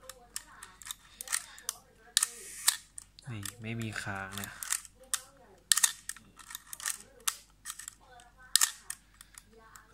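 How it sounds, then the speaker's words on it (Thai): A film camera's shutter is tested at different speeds, giving several sharp mechanical clicks spaced a few seconds apart, mixed in with someone speaking Thai close to the microphone. "เดี๋ยวจะเทสสปีดอันนี้ชัตเตอร์บีก็กดขังได้เลยดิปล่อยนิ้วก็เด้งลงมานะครับ"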